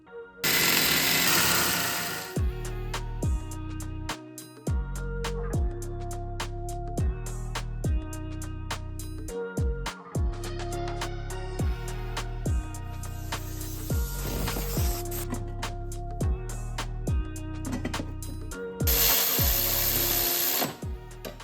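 A power tool grinds and cuts into an intake manifold on a 2.2 SR20 engine build, a loud high whine in repeated short strokes with pauses between passes, close and alone.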